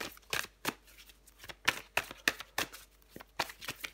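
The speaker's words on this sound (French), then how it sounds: "Et je vais encore prendre une carte pour vous." Tarot cards shuffled by hand in a quiet room, a string of crisp riffling bursts and soft slaps repeating at an uneven rhythm, close and clear with no voices.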